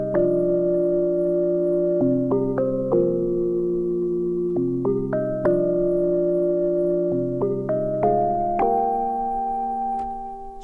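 The Crown Alloy synth preset in Massive X plays a sustained metallic, bell-like chord sequence with an ethnic flavor, its notes shifting in stepped changes over a continuous drone, clean and alone.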